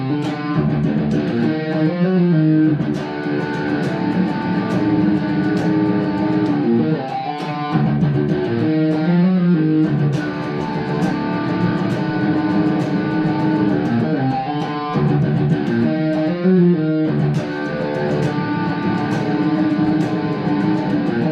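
Distorted electric guitar tuned to drop D plays a passage from a song, sustained loud chords and octave riffs ringing continuously with brief gaps between phrases.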